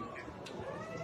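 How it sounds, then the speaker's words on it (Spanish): A cat gives a short, strained scream from a news report, faint and thin against background noise. "Oiga, esa gata sí que grita"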